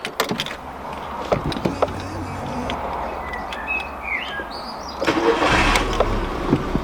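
A Volkswagen Golf engine cranks and catches near the end, rising to a steady idle, with faint bird chirps outdoors earlier on.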